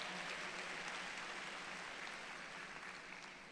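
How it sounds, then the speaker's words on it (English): Steady applause from a commencement ceremony audience honoring a guest's wife, a broad even wash of clapping heard faintly at a distance, fading slightly at the end. "Give her a round of applause"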